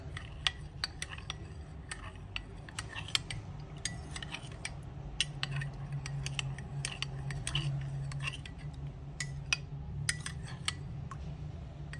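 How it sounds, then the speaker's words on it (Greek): A spoon stirs milk into yogurt in a bowl, quiet repeated clinks and taps against the bowl at an uneven rhythm over a low steady background hum. "Το ανακατεύουμε καλά."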